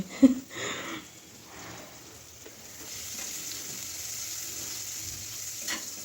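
Onions dropped into hot oil in a home kitchen pan after fish and lentil dumplings were fried, giving a soft steady sizzle with a brief louder burst at the start, low and close, with no talking.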